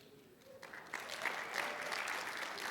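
Church congregation applauds during a sermon, clapping that starts softly and builds into steady, moderately loud applause from a sizeable room, with no voices over it.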